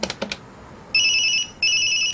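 A mobile phone ringtone plays two bright electronic trilling bursts, loud and close, after a few faint knocks at the start, with no talking over it.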